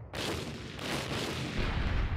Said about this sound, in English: Let's fire with some cannons here.